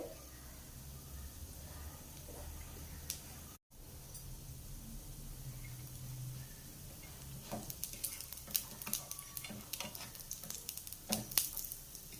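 Food frying in two tablespoons of oil in a pan, a steady soft sizzle throughout with sharper crackles and spatters building toward the end, close and fairly quiet, no talk.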